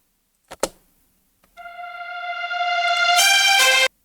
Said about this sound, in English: We have here the reversed violins